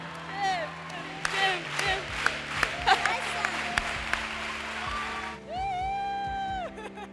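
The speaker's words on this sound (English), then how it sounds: "Everyone cheer for this guy." Chapel audience at Grace College cheering and applauding for a man, dense clapping with whoops and shouts throughout, a loud voice calling out near the end over the crowd.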